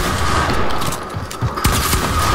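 Gunfire in the video game Fortnite: a dense, loud stretch of rapid overlapping shots and bursts during a battle, with heavy low-end thumps and no voices.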